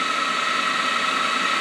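A Smithy MI-1340L lathe runs its carriage power feed at 2000 RPM, giving a steady, even machine whine and hum that holds unchanged throughout, close and fairly loud, with no voices.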